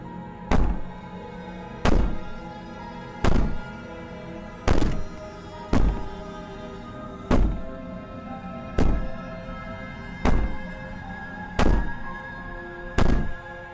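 Heavy, muffled thuds on a door in the game Slay the Princess, about ten evenly spaced single blows repeating roughly every second and a half, loud and close with a low hum underneath.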